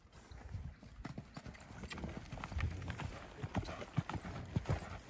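Quarter horse hooves at a lope in an arena, a soft rhythmic clip-clop of repeated hoofbeats at moderate distance with faint voices in the background.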